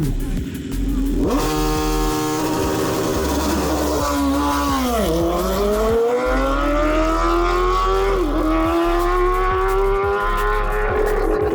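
Motorcycles race in a final heat at a 2025 season-opening motorcycle event in Odesa, with engines loud and close as they rev, roar and rise in pitch through repeated gear changes, with no talk over them.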